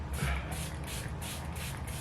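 Lancome Fix It Forget It setting spray mists from a fine-mist bottle in a series of about five quick, evenly spaced soft hissing spritzes, close and fairly quiet.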